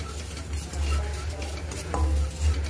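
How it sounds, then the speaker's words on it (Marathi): Poppy seeds being stirred as they dry-roast in a pan, with soft scraping and light rattling of a utensil against the metal over a low hum. "आपल्याला ह्या प्रकारे खसखस भाजून घ्यायची"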